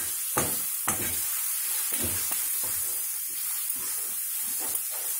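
Egg masala gravy with salt and garam masala being stirred in a pan, giving soft repeated scraping strokes over a steady sizzle of hot oil, with no talking.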